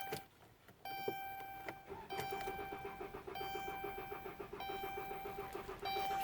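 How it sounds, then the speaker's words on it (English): A Dodge Chrysler engine with 81K miles and no fuel pressure cranks repeatedly without catching, a steady rhythmic starter churn with a whining tone, close and loud, after a brief pause at the start. "Auto start will crank until it times out."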